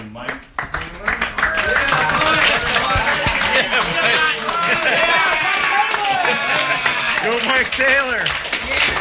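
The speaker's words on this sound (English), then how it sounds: "please give a warm round of applause to Mike Taylor" Applause and whistling crowd cheers greet a stand-up comedian taking the stage, loud clapping and shouts mixed with a voice calling out over the noise.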